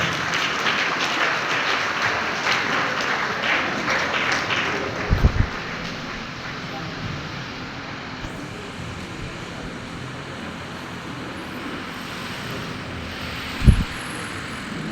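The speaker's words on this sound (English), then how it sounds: "we give him a very wonderful round of applause" A standing audience applauds after a distinguished public lecture by a monsignor, sustained clapping that softens after the opening seconds into a steady, distant wash, with a couple of sharp thumps.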